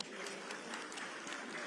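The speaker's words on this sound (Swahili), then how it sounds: "Mpige makofi huyu mama." Crowd applause for a woman at a Kenyan election rally, a steady, dense wash of many hands clapping, faint and somewhat distant, with no break for its whole length.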